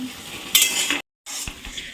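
Spice masala frying in oil in a pan, a close sizzle with a spoon scraping and stirring, broken by a brief silent gap.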